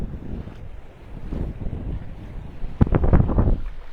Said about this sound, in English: So we can hear and feel the wind.